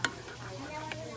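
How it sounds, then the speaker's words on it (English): A spoon stirs canned pasta sauce heating toward a boil on a stovetop burner, with a couple of sharp scrapes and clinks over a low bubbling hiss. "Now we're gonna stir our artificial sauce"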